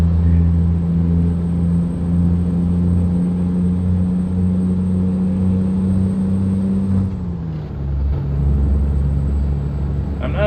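Truck engine in American Truck Simulator droning steadily, a loud low rumble that drops and shifts pitch around a gear change, with a brief rough grind as the gears engage.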